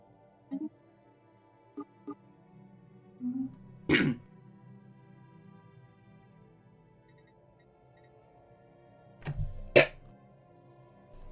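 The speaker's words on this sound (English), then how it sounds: "Sorry, I coughed a bit into the game there." A few short coughs and throat clears, one sharper cough near the middle and another later, faint and close over a quiet background.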